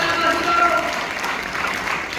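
Church congregation clapping loudly together at a Sunday service, a dense steady burst of applause lasting a couple of seconds with no break.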